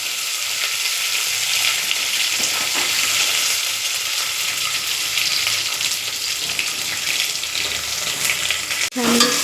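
Tomatoes with green chili and coriander frying in a pan, a loud, dense sizzle running throughout with faint stirring scrapes and a sharp clank near the end.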